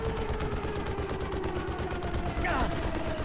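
Sustained gunfire from a gun in the Xbox game Armed and Dangerous runs without pause as a dense, loud rattle of rapid shots, with a tonal whine sweeping underneath.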